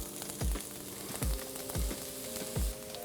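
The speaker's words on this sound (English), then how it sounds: "I'm gonna add some avocado oil to my pan. I'm gonna add my shallots to the pan." Shallots sizzle in avocado oil in a hot pan, a steady close frying crackle with a few louder bursts as they are stirred, no voices.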